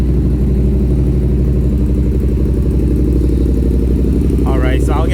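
A Yamaha FZ-07 motorcycle fitted with an MGP exhaust idles loudly and close, a steady deep rumbling pulse throughout, with a brief voice near the end.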